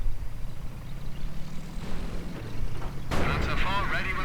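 Heavy booming gunfire from an anti-tank gun in a game, aimed at a Panzer IV with armored skirts, with a loud blast near the end over rumbling engine and battle noise, under a speaking voice.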